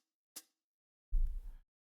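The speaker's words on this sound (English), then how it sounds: "I recorded hi-hat, or I did hi-hat hits on the beat sequencer" Two distorted hi-hat hits from a beat sequencer: a short bright tick followed by a longer, crushed, noisy hit with heavy low rumble, isolated against silence.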